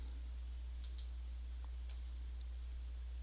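Faint computer mouse clicks during an AWS DynamoDB training lab, a couple of quick close clicks followed by a few sparse ticks over a low steady hum, with no talk.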